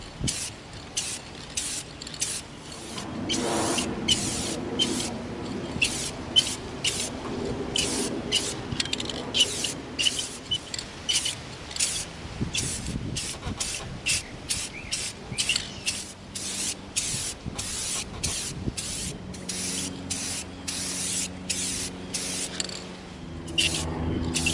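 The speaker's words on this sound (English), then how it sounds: "We're gonna spray our Bison axe with our aluminum." Aluminum spray paint hisses from an aerosol can onto a handmade EVA foam Bison axe in long, steady bursts with short pauses between them, close and fairly quiet, with occasional faint rubbing sounds.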